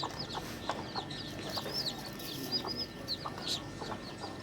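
Many high, thin peeping chirps from a brood of about eighteen newly hatched country chicks, overlapping near the microphone with soft clucking from a hen beneath.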